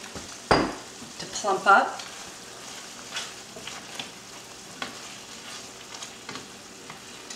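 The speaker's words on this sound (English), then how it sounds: "Now I'm going to add my prunes, give them about 1 minute or 2" Pitted prunes drop into a hot pan of chicken with a burst of sizzling, followed by scraping stirs and a steady gentle fry, while a voice speaks briefly.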